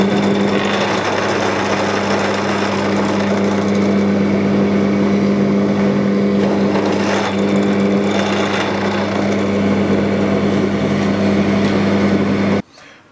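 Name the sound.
drilling holes through clamped wood pieces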